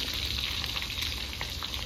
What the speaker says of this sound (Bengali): বিরিয়ানির জন্য আলুটা আগেই সেদ্ধ করে নিয়েছিলাম, হালকা ছাড়িয়ে আপনার দাদা ভাজছে